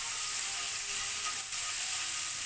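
Garlic paste sizzles in a hot pan, a steady bright hiss of frying with a faint crackle running through it, close and alone without any talking.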